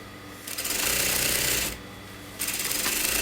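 A sewing machine stitches a kurta seam with two loud, steady bursts of rapid needle chatter separated by a short pause.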